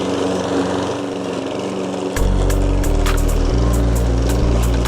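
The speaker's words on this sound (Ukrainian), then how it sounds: "Зараз подивимось, як впорається 46-та модель самохідна." A self-propelled petrol lawn mower, Dnipro-M 46 model, runs loud and close, driving itself, its steady drone jumping to a heavier, rougher pitch partway through with rattling clicks.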